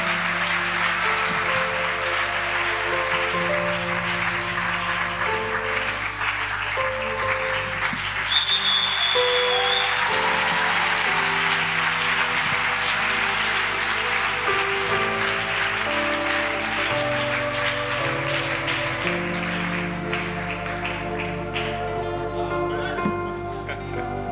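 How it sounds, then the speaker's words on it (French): A church congregation applauds the Lord in sustained, dense clapping that runs unbroken throughout, with organ or keyboard chords sounding underneath. "Let us clap the Lord."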